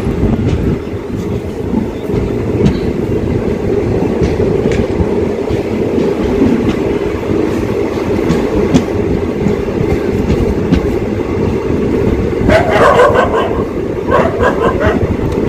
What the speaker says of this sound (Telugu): 7:07కి డిపార్ట్ అవుతుంది ఫ్రెండ్స్ ట్రైన్.